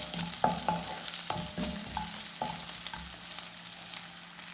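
Ginger, garlic and green chillies fry in a pan, with a steady close sizzle under repeated spoon scrapes and taps against the pan, no voices.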